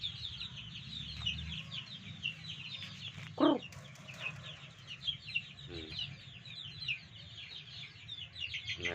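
Hens cluck repeatedly in a steady chatter, with one louder squawk partway through, amid a busy farmyard background.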